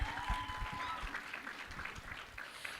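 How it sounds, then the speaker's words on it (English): A conference audience gives a short burst of applause, fairly faint and somewhat distant, with a few voices mixed into the clapping. "Give yourselves a round of applause for that."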